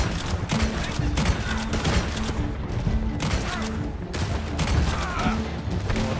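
Rapid volleys of gunfire in Red Dead Redemption 2 ring out in repeated loud bursts, close and dense, over a steady background hum with faint voices mixed in.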